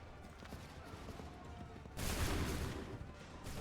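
A musket volley erupts in Assassin's Creed III, a dense burst of overlapping gunfire that swells suddenly over low battlefield rumble and holds for over a second, loud and close.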